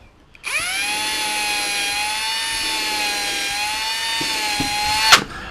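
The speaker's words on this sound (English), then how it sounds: "drill 2 holes in a vertical plane with the thing there" A power drill whines steadily for several seconds while boring holes for bunk bed connector pieces in a small shed, ending with a sharp click or knock as it stops.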